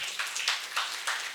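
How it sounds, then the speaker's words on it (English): A crowd applauds at a Jashn-e-Azadi freedom celebration, giving a short, fairly quiet burst of clapping that swells in a few uneven pulses. "give a thundering round of applause"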